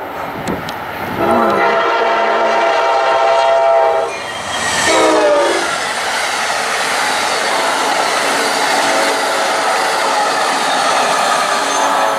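A loud Amtrak train horn sounds twice, then the northbound Amtrak train rumbles steadily past nearby with continuous rolling noise of the rail cars.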